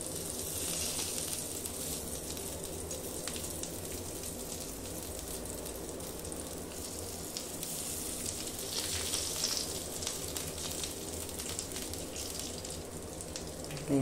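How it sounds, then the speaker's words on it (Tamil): Fish coated in masala frying in a little oil with curry leaves on a hot dosa griddle, giving a steady, even sizzle and crackle that continues throughout, close and moderately loud, with no talking. "இப்போ வாங்க இந்த மீனை நம்ம பொரிக்கலாம்"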